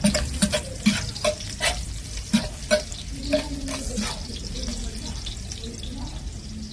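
Garlic sautéing in a pan for paksiw, with a steady frying sizzle under repeated clinking stirs of a utensil against the pan, and a voice talking now and then.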